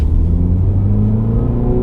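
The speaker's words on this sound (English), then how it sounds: "play along with the tachometer and the engine sounds and such" A 2022 Mini Cooper S five-door with a seven-speed dual-clutch automatic revs up on a downshift, its engine a loud, close, steady rumbling drone that rises slightly in pitch.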